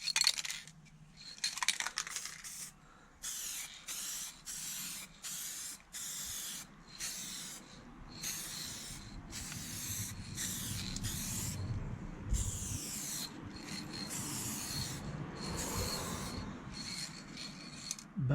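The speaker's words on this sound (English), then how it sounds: "Now to seal it all in with some acrylic varnish from MTN" Repeated bursts of MTN acrylic varnish spraying from an aerosol can over a graffiti mural on a VW T4 campervan, short hissing blasts broken by brief pauses, fairly close and steady with no talking.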